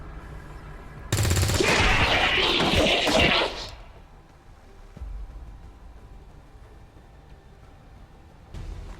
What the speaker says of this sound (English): fire weapon. Fire weapon.